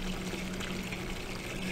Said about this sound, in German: Wir plätschern ein bisschen.